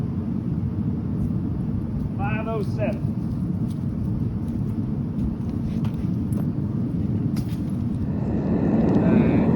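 Gas burner of a Cast Master GG-5000 SS metal casting furnace roaring at full jet, a steady broadband rumble up close, with a brief spoken number over it.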